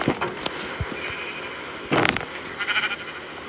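A sheep in Minecraft bleats twice in quick succession over a busy background of game noise and clatter.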